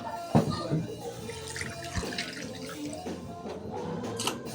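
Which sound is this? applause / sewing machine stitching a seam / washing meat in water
washing meat in water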